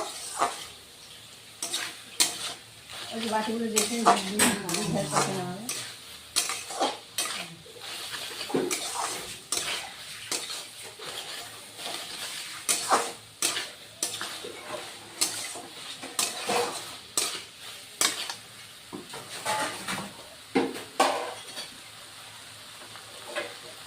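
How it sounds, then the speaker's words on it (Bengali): Katla fish head and shola kochu are sautéed in a pan, with soft sizzling broken by irregular spatula scrapes and stirring clatter, loud in bursts then quieter, over about twenty seconds. "এবার আবার কষিয়ে নিব আরো অল্প"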